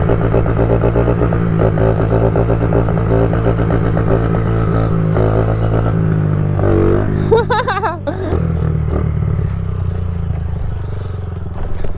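A new Honda CRF50 pit bike's small engine runs close and loud in a continuous buzzing drone, with a brief rev and clattery burst near the end before settling back to idle; a voice speaks briefly.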